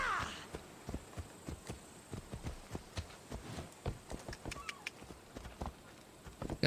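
Horse hooves clip-clopping through narrow streets in Assassin's Creed Odyssey, a steady stream of sharp hoofbeats at close range over a faint game ambience.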